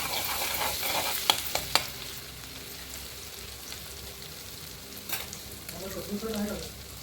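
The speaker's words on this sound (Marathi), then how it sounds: "चला आधी टाकले अद्रक लसण असं छान लाल तळून घ्यायचं" Ginger and garlic frying in a pan for a home-cooked dinner, a steady soft sizzle with a few sharp clicks of a utensil early on, and a brief voice near the end.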